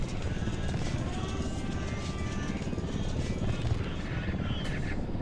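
Steady, loud rotor and engine drone of a helicopter in Tom Clancy's Ghost Recon Wildlands fills the whole stretch, constant with no letup.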